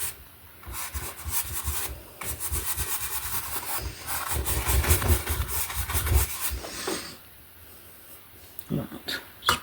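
A makeup brush rubs and dabs paint across a landscape painting up close, giving soft scratchy brushing strokes in repeated bursts, with a person talking over part of it.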